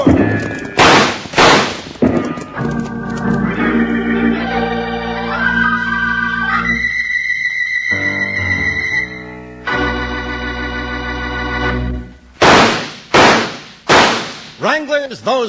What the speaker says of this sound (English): those 3 gunshots are just to remind you